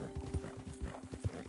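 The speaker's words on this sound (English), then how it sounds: "Ain't you a good horse?" Horse hooves clip-clop in Red Dead Redemption II, with several distinct thuds in an uneven walking rhythm, close and moderately loud, over a low steady hum.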